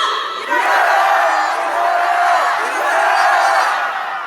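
A large crowd shouts a slogan back in unison, loud and sustained, rising and falling in repeated waves.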